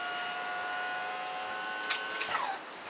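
Thin, steady electric whine of a Honda 200 four-stroke outboard's power tilt motor raising the engine, holding a constant pitch before a few brief clicks and a dropping tone near the end, fairly faint.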